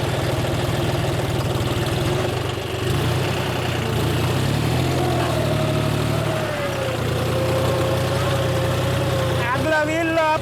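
A 40 hp 4x4 tractor engine runs with a low, steady drone while working a new plough, its pitch shifting slightly near the end, with a voice talking over it.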